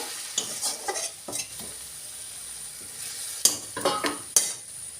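Chopped kundri gourd sautéed with chili powder and garam masala in a hot pan, a close, steady sizzle broken by repeated scraping stirs of a spatula against the metal.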